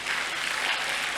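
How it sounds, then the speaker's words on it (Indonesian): Audience applause at a health talk session with Ade Rai, a dense, steady wash of many hands clapping at close range, sustained evenly throughout without pauses. "Boleh tepuk tangan dulu dong."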